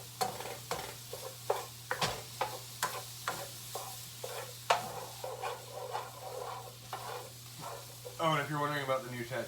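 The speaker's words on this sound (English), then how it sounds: "Cooking some sausage." Sausage cooking in a frying pan, with a low sizzle under repeated sharp clacks of a utensil against the pan, a steady hum behind, and a brief burst of other sound near the end.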